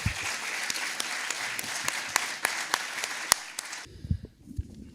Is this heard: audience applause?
yes